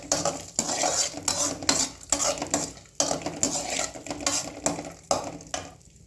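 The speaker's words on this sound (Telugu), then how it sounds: "జీడిపప్పు ద్రాక్షి ఫ్రై చేసుకోవాలండి." Cashews and raisins frying in ghee in a pan for semiya sago payasam, with rhythmic scraping and clinking of a spoon against the pan over a moderate sizzle, close by and without speech.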